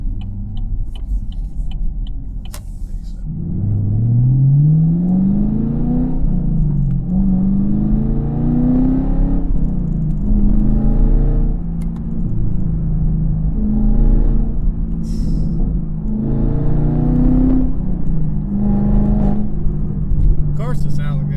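A 2017 Chevrolet Camaro SS 1LE engine rumbles steadily from inside the car while driving, rising and falling through several brief revving pulls, loud and continuous throughout.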